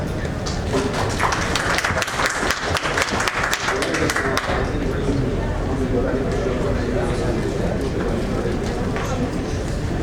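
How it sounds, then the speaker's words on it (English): Audience applause after a talk at a drone traffic management system launch event, dense clapping for the first few seconds that fades into crowd murmur and talking. "We can thank Mr. Yashanand Nayak with a big round of applause."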